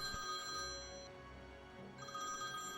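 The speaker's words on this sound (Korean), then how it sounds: "예친의 핸드폰이 고요한 새벽의 정막을 깨고 울리기 시작했습니다." A mobile phone rings alone in a quiet pre-dawn bedroom, its steady electronic ringtone sounding clearly and continuously with no voices.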